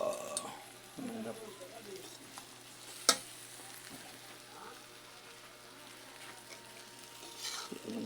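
Meat, onion and garlic sautéing with shrimp paste, a soft, fairly quiet sizzle with intermittent stirring scrapes and one sharp clink, under faint talk.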